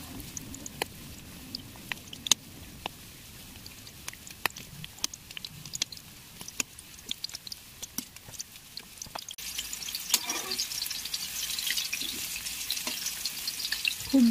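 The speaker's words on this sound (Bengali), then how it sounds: "আমি চিকেনগুলোকে ভেজে নেব। এইভাবে চিকেনগুলোকে পাল্টে নিতে হবে।" Chicken pieces fry in hot oil with a soft, steady sizzle punctuated by sharp crackles and pops, and utensil clatter grows louder toward the end as the pieces are turned.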